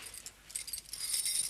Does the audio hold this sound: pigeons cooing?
no